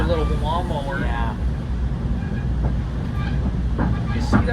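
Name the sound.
commuter train passing by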